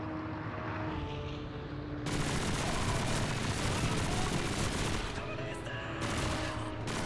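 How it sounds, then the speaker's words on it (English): Gunfire in Call of Duty 2 (2005) on veteran difficulty: dense, sustained bursts of rifle and machine-gun fire with battlefield rumble, loud and continuous after a quieter opening. "they're trying to shoot us through the point"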